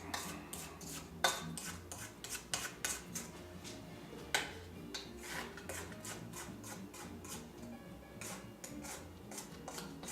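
A spatula scraping around the sides of a mixing bowl in a home kitchen after the mixer is switched off, with steady, repeated rubbing strokes that are close and fairly quiet. No one talks.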